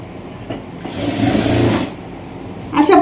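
A sewing machine runs in one short burst, stitching blouse fabric, loud and close for about a second, then stops while a voice speaks.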